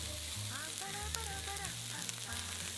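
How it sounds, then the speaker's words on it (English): Dried shrimp and scallions stir-fry in a pan with a steady, close sizzle and occasional light scraping, while a soft background melody plays throughout. "Stir fry until aromatic for about 1 minute."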